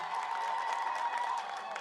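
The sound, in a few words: crowd applauding governor at launch event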